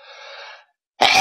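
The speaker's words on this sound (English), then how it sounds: "My friend sneezing on the mic?" A person sneezes right into a microphone: a soft breathy intake, a brief silence, then a loud, close, distorted burst.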